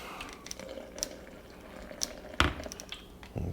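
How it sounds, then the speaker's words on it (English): Small amounts of water splash and drip into a protein drink in short, scattered bursts, with a sharper splash midway and another near the end, fairly close and without speech. "Let's add a little more water to this."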